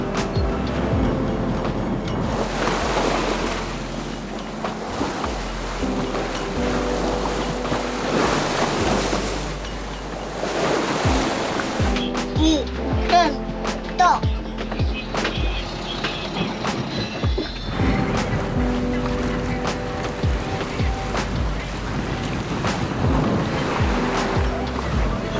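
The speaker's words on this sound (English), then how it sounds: "We came out in the last channel and the wind was pushing us along." A sailboat runs before the wind on open water after leaving a channel, with steady wash of waves against the hull and wind rushing throughout, loud and continuous.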